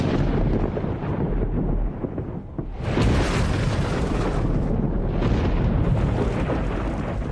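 Thunder cracks and rolls over an ancient, oxygen-rich tropical forest: a steady deep rumble, then a loud, sudden boom at about three seconds that swells into a sustained, roaring blast.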